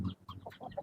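Indio Gigante chicken giving a quick series of soft clucks, close by and fairly faint, with no one talking.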